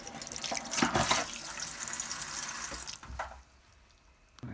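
Tap water runs steadily and loudly into a sink as a cleaned pig stomach is washed under it. The flow splashes for about three seconds, then stops, leaving faint drips and quiet handling.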